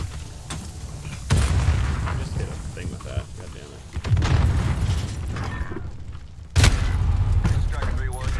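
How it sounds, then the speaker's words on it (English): A big explosion in Call of Duty booms loudly amid ongoing gunfire and battle noise, with sharp heavy bursts recurring over several seconds while players chatter over voice chat. "That's a big explosion."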